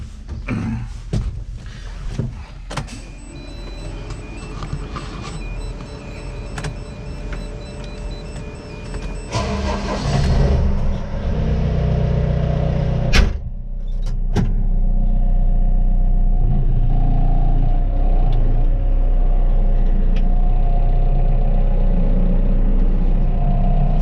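A telehandler on a poultry farm starts up partway through, then its diesel engine settles into a loud, steady idle that runs continuously to the end, after earlier clanks and handling noises.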